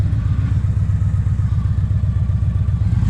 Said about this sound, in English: Oh look, high motorcycle traffic